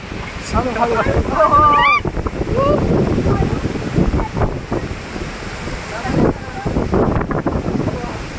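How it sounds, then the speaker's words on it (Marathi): Steady roaring rush of a large waterfall in Satara fills the scene, with people talking and calling out over it. "एवढा मोठा धबधबा आहे"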